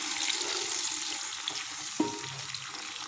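Tomatoes fry in a pan for beef biryani with a soft, steady sizzle, plus a brief clink of a utensil against the pan.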